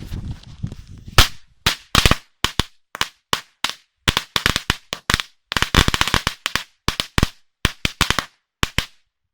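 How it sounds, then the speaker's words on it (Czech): A 70-shot firecracker carpet strip crackles through a rapid, uneven string of sharp, loud bangs, some isolated and others bunched in quick bursts, close by and with no voices over it. "Kobereček 70 ran."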